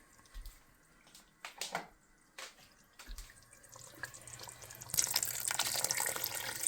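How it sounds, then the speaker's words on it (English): Water runs from a tap into a pot of Jamaican curried goat, a steady splashing pour building in the last couple of seconds after a few soft kitchen knocks. "So I'm gonna add a tip more water."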